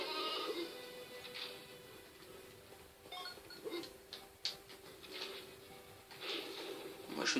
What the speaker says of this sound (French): Bon, là, c'est pour un mouton